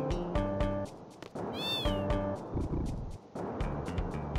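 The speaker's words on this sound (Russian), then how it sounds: "Давай, кошка." A cat in Final Fantasy VIII gives several short, clear meows in sequence, each rising and falling, set over a looping game music background.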